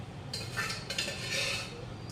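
Steel utensils and dishes clink and clatter faintly in a home kitchen as vessels are handled, a few light metallic knocks in quick succession.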